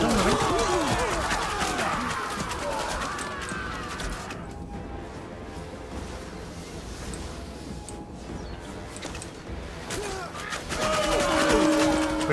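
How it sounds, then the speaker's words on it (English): Volleys from about six units of archers in a Rome 2 battle, dense crackling clatter of many arrows loosed and striking at once, loud at first, thinning through the middle and swelling again at the end, with battle cries mixed in. "We've got a great weight of fire from how many units of archers?"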